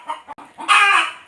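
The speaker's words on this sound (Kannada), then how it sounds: "ಆ ಕೋಳಿ ಬಂದು ಮೊಟ್ಟೆ ಮೇಲೆ ಕೂತ್ಕೊಂಡು ಇದ್ದ, ಇವಾಗ ಹಾರು ಬಂದ್ಕೊಂಡು ಈ ಥರ ಸೌಂಡ್ ಮಾಡ್ತಿದ್ದೆ." A hen that had been sitting on her eggs clucks and squawks loudly and close by, in short bursts that build into a sustained agitated call.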